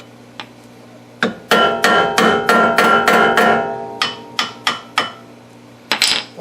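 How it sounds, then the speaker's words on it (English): A hammer strikes a screwdriver to drive off the dust cover of a front wheel hub on a Ford Mustang. About a dozen loud, close metallic blows land in quick, steady succession, with short pauses between groups. "what I'm going to use is just a screwdriver and a hammer"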